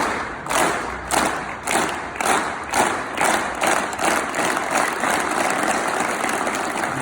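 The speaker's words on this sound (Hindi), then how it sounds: "रेल ताली बजाएंगे, मेरे हाथ के साथ ताली बजेगी।" A seated group claps together in a taught rail-clap pattern, following a leader's hand moving up and down, giving loud, evenly spaced unison claps that speed up into a steady, quicker rhythm.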